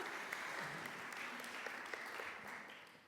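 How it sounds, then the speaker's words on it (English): Faint, steady applause from a small crowd continues throughout, sounding distant and quiet. "Why don't we give them a little splattering of applause?"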